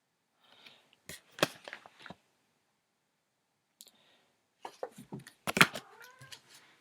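A house cat meows several times in short bursts, close and fairly clear, with a quiet gap between two clusters of calls.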